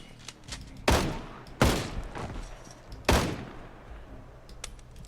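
Gunfire in the zombie survival game Project Zomboid: three loud, sharply separated shots at irregular intervals, each with a brief echoing decay, over a low background rumble.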